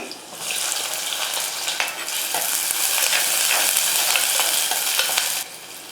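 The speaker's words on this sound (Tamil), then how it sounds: "வெங்காயம் நல்லா வதங்கிடுச்சு" Garlic cloves and a large onion sizzle and hiss steadily in hot oil with mustard seeds, with scraping stirs and clinks of a spoon against the pan throughout, loud and close, stopping abruptly near the end.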